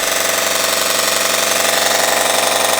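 A Temu mini belt sander runs continuously with its belt grinding into a block, giving a loud, steady, even whine and buzz that holds without a break.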